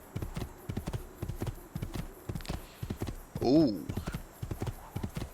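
Horse hooves clip-clop in a steady walking rhythm in Assassin's Creed II, close and fairly loud, with a brief whinny-like sound midway and a voice speaking over it.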